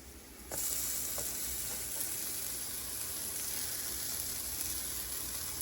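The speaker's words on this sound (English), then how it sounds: "Cooking them just like pancakes." Banana pancakes frying in a pan, a bright steady sizzle that starts abruptly and holds evenly, close up with faint scraping ticks and no talk.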